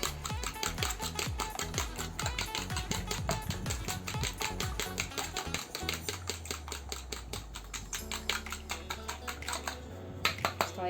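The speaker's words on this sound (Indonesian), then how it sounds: "Kita kocok halus ya." Two eggs are whisked in a bowl with quick rhythmic clicking strokes, a fast steady tapping of utensil against the bowl that continues throughout.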